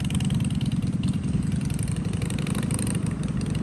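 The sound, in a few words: Harley-Davidson Sportster motorcycle engine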